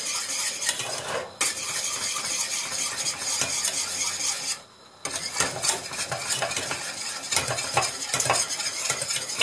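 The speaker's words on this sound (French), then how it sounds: "il faut bien mélanger avec un fouet" A whisk beats cake cream mixture for a Turkish-style cake in a bowl, a rapid, continuous scraping and clatter, loud and close, with one brief pause near the middle.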